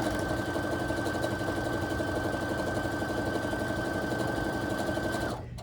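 A sewing machine stitches quilt pieces together, running at a steady, even hum with a constant high whine for about five seconds before it stops.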